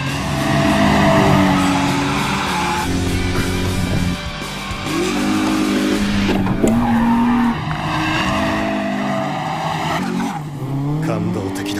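Tires squeal as a Toyota 86 drifts hard through a mountain-pass corner in an Initial D anime race, a loud sustained screech over a racing engine that shifts pitch through the slide, with a voice speaking briefly over it.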